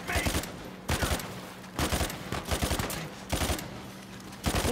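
Bursts of gunfire in Uncharted 4, rapid crackling volleys in several clusters with short gaps between, loud and close, with game sounds mixed underneath.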